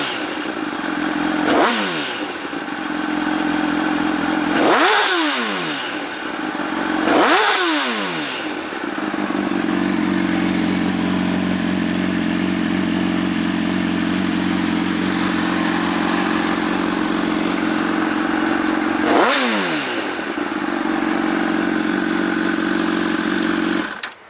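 A 2006 Honda CBR1000RR with an Arata titanium full exhaust idles loudly up close, its engine revved in sharp throttle blips several times between steady idle stretches, with no talk.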